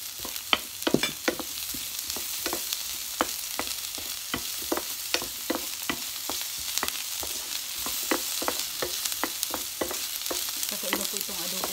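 Sliced onions frying in a pan for a chicken and pork adobo in coconut milk: a continuous sizzle is punctuated by a brisk, uneven run of spatula scrapes and taps, close and fairly loud, with no talking.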